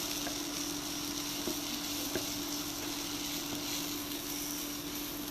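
Dry red chili cooking in a pan, giving a steady, even sizzle that stays at a moderate level, with a few faint clicks and no voices.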